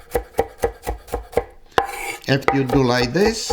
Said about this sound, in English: when you cut it now, it's more easy for you using the knife